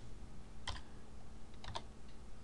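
Two brief clusters of computer keyboard keystrokes, close and quiet, separated by about a second over a low steady hum, with no speech.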